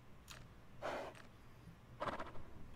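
A horse neighs faintly twice, short breathy whinnies separated by a pause, over a quiet low hum.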